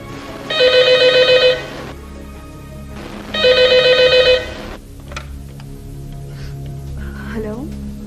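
An old landline telephone rings twice in a domestic drama scene, each burst a trilling electronic bell of about a second and a half separated by a pause, loud and close, followed by faint background sounds.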